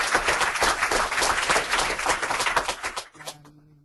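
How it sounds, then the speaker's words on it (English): A symposium audience applauds the presenters with dense, sustained clapping for about three seconds before it breaks off into quiet. "How about a round of applause for the whole day, all the presenters, mentors, and moderators."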